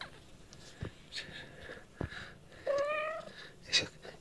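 A kitten and its mother cat meowing up close: one clear, drawn-out meow rises out of quiet room noise, followed by a brief high squeak and a few soft knocks.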